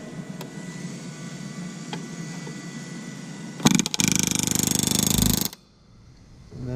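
A rivet gun hammers an aircraft rivet against a bucking bar in sheet metal, a loud, rapid burst of metallic rattling lasting about two seconds after a quiet workshop hum, then falling silent.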